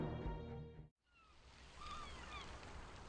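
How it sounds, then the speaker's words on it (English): Gentle water lapping at river docks in the video game Choices, a soft steady wash after a short tonal passage cuts off, with faint whistling tones drifting above. "listening to the peaceful lapping of the water against the riverbed"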